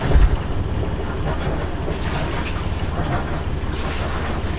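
A Beneteau Oceanis 38.1 sailboat's inboard engine runs steadily at idle, a low continuous throbbing rumble that holds even and close throughout, with a brief louder burst at the very start.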